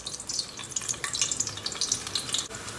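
Small pieces of eggplant fry in hot oil, a close, steady crackling sizzle with bright pops running throughout.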